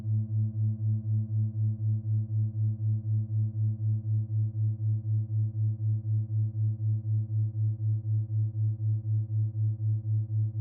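Two steady sine tones patched in VCV Rack form a binaural beat, a low hum with a regular pulsing throb about twice a second, sustained and even throughout with no voices.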